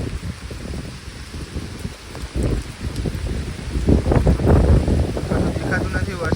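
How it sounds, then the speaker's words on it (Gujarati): Heavy rain pours down on an open cotton farm field, a dense steady hiss mixed with wind buffeting that swells louder toward the end. "વરસાદ ફૂલ ચાલુ થઈ ગયો છે હવે"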